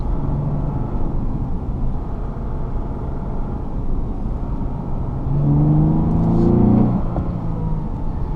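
A 2015 Lexus GS 350 F Sport sedan cruises with a low, steady engine hum and road rumble from inside the cabin, swelling briefly as the engine pulls harder before settling again.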